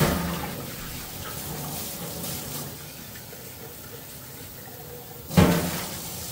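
Tap water running into a pot as it is rinsed out in a kitchen sink, a steady close splashing flow with a louder clatter near the end.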